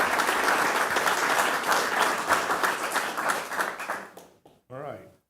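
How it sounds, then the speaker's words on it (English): Audience applause fills a school board meeting room, steady dense clapping for about four seconds that tapers off and ends, followed by a brief voice. "that deserves a round of applause"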